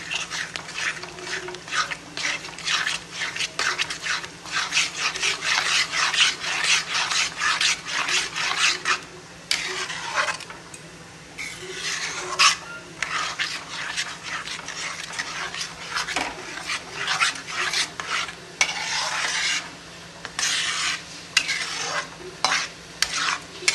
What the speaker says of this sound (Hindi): अब डालेंगे हम इसमें खोआ। इसको भी हमें 2 से 3 मिनट भूनना है डाल के।